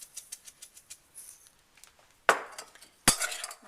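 Seasoned sweet potato pieces being mixed in a bowl, with a run of light clinks and soft scrapes followed by two louder, sharper clatters of a utensil against the bowl.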